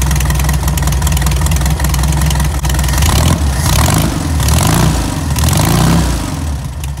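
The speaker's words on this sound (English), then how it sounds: "So we're gonna turn on our engine so we can see the before and after." A VW Beetle engine idles steadily nearby with a low, even rumble, with a couple of slight rises in revs.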